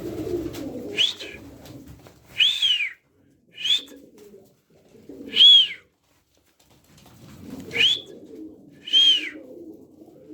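Several pigeons cooing in separate rising calls spaced a second or two apart, close by, with faint low rustling between calls.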